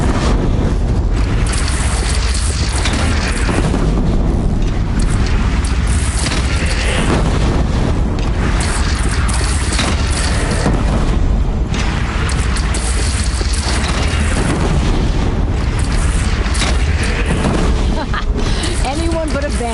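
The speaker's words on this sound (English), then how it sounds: "They only have one cannon!" Cannon fire in Horizon Zero Dawn battle, repeated deep booming blasts over a constant rumbling roar, with voices shouting and talking throughout.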